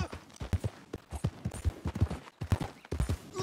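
Horse hooves clip-clopping in Red Dead Redemption 2, a steady run of repeated thudding footfalls that stays close and moderately loud through the whole stretch, with no voices.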